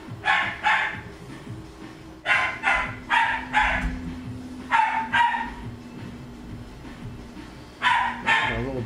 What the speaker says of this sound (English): There's a little dog in there, being a little dog.